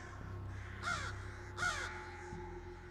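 Two harsh crow caws, spaced under a second apart, ring out over a steady low background hum.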